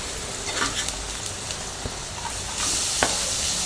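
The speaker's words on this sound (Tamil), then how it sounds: "கேரட் வந்து நல்லா ஃப்ரை பண்ணணும்" Sliced carrots and onions frying in a pan for Tamil carrot rice, a steady close sizzle with light scraping stirs, growing louder near the end.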